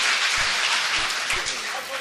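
An audience at a mushaira applauds to welcome a poet, a steady wash of clapping that is moderately loud and continuous, with some voices mixed in.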